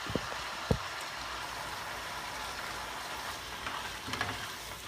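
Broccoli and onion sizzle in a hot frying pan for beef and broccoli, a steady close crackle and hiss with a couple of sharp pops near the start, no talking.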